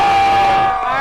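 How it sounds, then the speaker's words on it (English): A crowd at a human-powered rover challenge for students cheers and whoops loudly for the pilots, a dense, sustained roar of yells and hoots filling the whole moment. "Cheer for the pilots."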